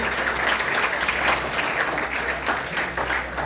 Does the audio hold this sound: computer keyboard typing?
no